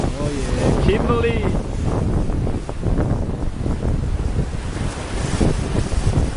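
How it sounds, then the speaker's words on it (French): A waterfall in a gorge in the Kimberley roars as a loud, continuous rushing wash, with wind buffeting the microphone and a short voice at the start. "Pas mal comme un premier cascade dans les Kimberly."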